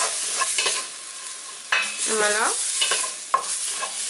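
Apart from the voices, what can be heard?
stirring and browning flour in a pot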